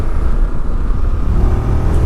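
Close, loud engine roar with wind rush from a 2025 Yamaha Tracer 7 motorcycle pulling hard uphill in third gear while overtaking, a steady dense drone throughout.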